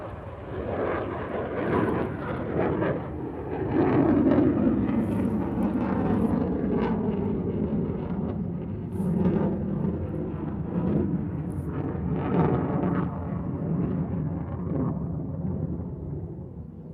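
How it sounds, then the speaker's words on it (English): An Airbus A330-300 airliner takes off from Honolulu on a full, unrestricted climb, a loud, sustained jet roar that swells and rumbles for the whole stretch, with no talking. "It'll be here in about 2 minutes, or less than 2 minutes. It's an A330-300."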